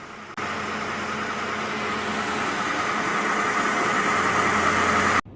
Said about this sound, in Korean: 시동을 걸어봤는데요. 네, 엔진 소리가 뭔가 부드러운 느낌이 드네요.